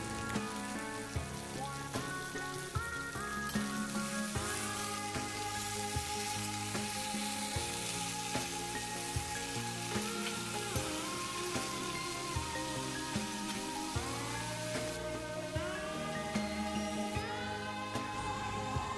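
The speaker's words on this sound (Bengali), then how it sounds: "ঝিঙেগুলো সুন্দর করে আস্তে আস্তে ভেজে নেব।" Ridge gourd, chillies and pumpkin greens fry slowly in a pan, giving a steady close sizzle and crackle that runs throughout with no talking.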